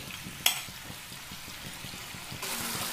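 Chicken fried rice ingredients for street-style schezwan fried rice roast in a pan over fast heat, a soft, steady frying hiss with stirring scrapes and one sharp clank, then a brighter wash of sizzle near the end.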